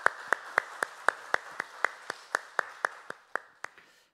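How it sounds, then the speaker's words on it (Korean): A church congregation at a Korean Sunday service claps in unison, about sixteen crisp, evenly spaced claps at a steady brisk beat, moderately faint and with no voices. "우리 하나님께 영광의 박수 올려주시겠습니다"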